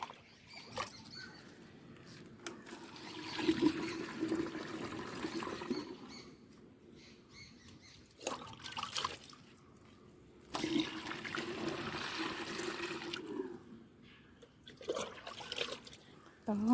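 A strained slurry of cow dung water mixed with cow urine is poured onto young brinjal plants in pots, making bursts of splashing and trickling that come and go between quieter gaps.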